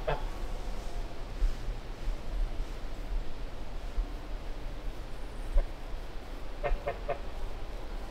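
A goose calls in short bursts, a few honks at the start and a quick cluster near the end over steady outdoor background noise, fairly faint and not close.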